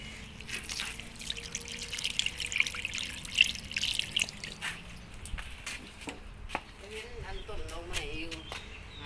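Running tap water trickles and drips while hands are washed outdoors on a cold morning, a steady light stream with scattered splashes, birds chirping faintly and a voice speaking briefly near the end.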